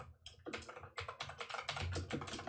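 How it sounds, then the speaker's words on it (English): Rapid clattering keystrokes on a loud computer keyboard, close and crisp, in quick irregular bursts with no talking. "sorry, my keyboard is a little bit loud"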